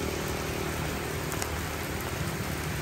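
Heavy rain pouring outdoors in the Mekong Delta countryside, a dense, steady, loud hiss of falling water with no pauses, heard alone while sheltering under a low flame tree.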